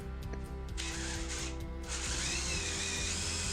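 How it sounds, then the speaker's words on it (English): A close, steady mechanical whir of a power drill running continuously, driving screws into wall studs, with a faint rhythmic clicking underneath. "now he's drilling it in"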